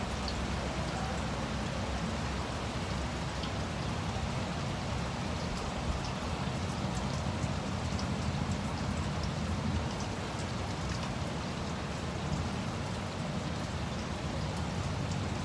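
Steady rain falls and patters on surfaces, a constant soft hiss with no voices, moderately quiet and even throughout.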